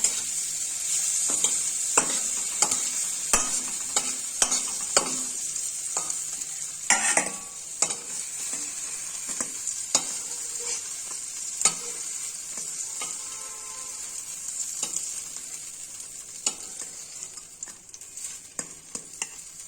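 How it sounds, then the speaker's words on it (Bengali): Eggplant slices frying in oil in a pan, a continuous bright sizzle punctuated by sharp clicks and scrapes of a spatula turning them, close and steady with no talking. "আমার বেগুন ভাজাটা হয়ে গেছে, এবার বেগুন ভাজাটা তুলে নিব।"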